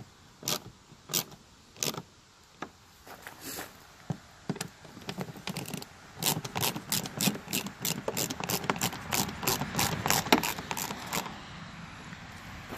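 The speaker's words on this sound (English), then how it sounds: "I'm using a ratchet here, but I'm barely putting any force on them. Just tighten them till they go snug." Hand ratchet snugging light bolts on a Ford F250 truck, sparse clicks at first, then a fast run of crisp close ratcheting clicks that speeds into rapid bursts, no talking.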